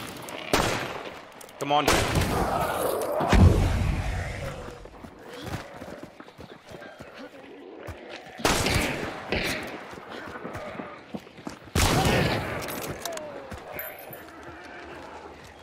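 Rifle fire from a Vetterli Marksman loaded with incendiary ammo in a first-person shooter game, sharp loud shots spaced several seconds apart, with a player briefly talking between them.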